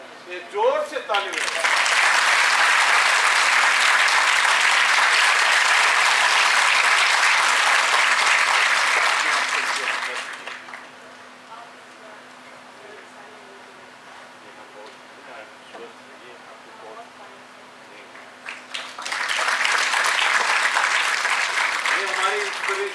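An audience at a TB-Free India felicitation ceremony at Raj Bhavan, Dehradun, claps loudly and steadily for about ten seconds. An announcer speaks over a quieter pause, then a second burst of strong applause follows.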